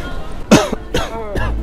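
Three intense coughing bursts, loud and close, each a harsh broadband blast with rough voiced tails, spaced about half a second apart, with no talk between them.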